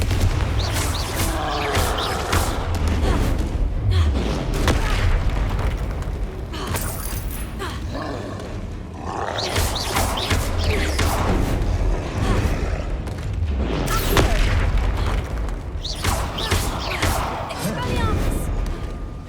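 Confringo fire spells burst in Hogwarts Legacy combat, with a dense run of booming explosions and crashing impacts layered over deep rumbling, heavy and continuous for around twenty seconds, with voices mixed in at points.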